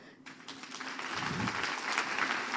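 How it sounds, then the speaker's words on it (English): Audience applause at the close of a manufacturing-sector ESG client workshop, clapping swelling from sparse to sustained and steady, moderately distant and fairly quiet, with no talk over it. "let's have the last sustained clap"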